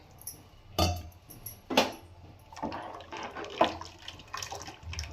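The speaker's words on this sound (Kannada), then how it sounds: "ನಾವು ಸ್ವಲ್ಪ ನೀರು ಸೇರಿಸ್ಕೊತಿದ್ದೀವಿ" Water is poured into a pot of fish sambar in a home kitchen, a few short splashing bursts rising and falling over a quiet background.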